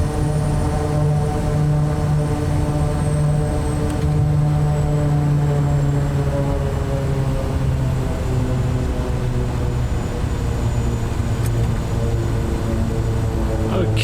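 A heavily loaded aircraft carrying nine passengers climbs in Microsoft Flight Simulator 2024, its propeller engine droning loudly and continuously with a strained, steady tone throughout.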